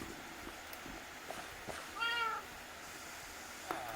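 A cat from a Minecraft pet mod meows once in the middle, a soft sliding game-style meow heard over steady background music and noise.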